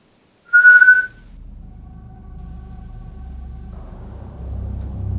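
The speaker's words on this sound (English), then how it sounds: "Could you do me a favor and whistle?" A single short, clear whistle on one steady pitch, followed by a low engine-like rumble in the background.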